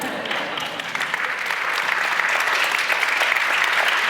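Steady audience applause at a climate conference opening session in Aspen, sustained and full-bodied from start to finish with no voices on top.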